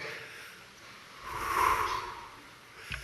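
A single deep breath, drawn in and slowly let out, swelling in the middle then fading, close and alone with no talking.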